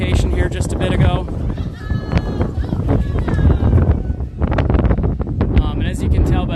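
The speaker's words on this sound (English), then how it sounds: "as you can tell by that wind noise here, it's starting to get pretty windy" Loud, blustery wind from an approaching major hurricane buffeting the microphone in rumbling gusts at the Magic Kingdom, Walt Disney World, with a voice talking over it and some squeaky bleat-like sounds.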